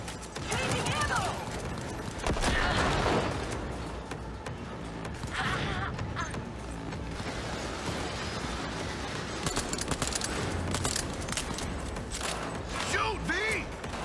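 Gunfire from the Cyberpunk 2077 video game, a steady stream of dense shots and mechanical clatter filling the whole stretch, with someone talking over it.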